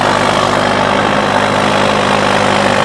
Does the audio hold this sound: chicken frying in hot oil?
no